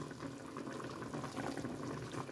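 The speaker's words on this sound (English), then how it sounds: "So we're just gonna let this simmer again." Chicken adobo simmering in a pot gives a steady, continuous bubbling and gurgling hiss, close and even throughout with no talk.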